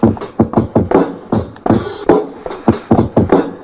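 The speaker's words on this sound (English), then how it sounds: "Track 1, I already sampled a drum break and kind of split that up" Chopped drum break sample triggered on an MPC Live 2, punchy kicks and snares hitting in a steady looping groove with sharp, evenly spaced transients over about four seconds.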